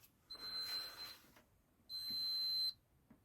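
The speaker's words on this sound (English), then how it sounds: "2 beeps, 2 long beeps." A faulty SWS garage door controller gives two long electronic beeps, a steady high tone each lasting under a second with a short gap between, fairly quiet in a still room.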